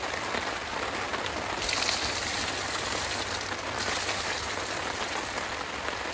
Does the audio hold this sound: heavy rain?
yes